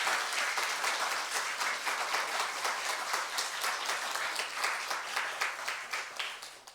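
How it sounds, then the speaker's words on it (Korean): A church congregation applauding during a Korean sermon, dense, steady clapping from many hands, lively and sustained, fading slightly at the end. "우리 BTS보다 더 크게 한번 우리 부모님을 주신 하나님께 영광의 박수"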